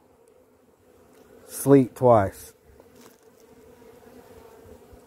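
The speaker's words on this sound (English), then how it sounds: "There's bees flying." Bees flying around a beehive on a winter day after heavy snow, a steady low buzz running through the whole stretch while a person briefly speaks in the middle.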